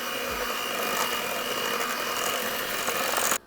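Orange cake batter with Greek yogurt is whisked with an electric mixer, a steady whirring motor drone that runs evenly, then cuts off abruptly at the end.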